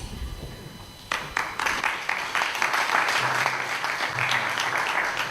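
An audience at a health authority donor appreciation ceremony breaks into clapping after a quiet start, a sustained close wash of applause that holds steady to the end, with a brief voice underneath.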